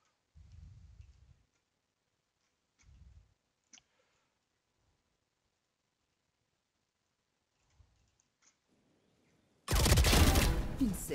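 Valorant gunfire: faint sparse clicks and short low thumps are separated by long near-silence, then a sudden loud burst of rapid shots closes the sequence.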